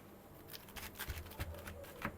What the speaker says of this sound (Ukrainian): Нарізаю капусту.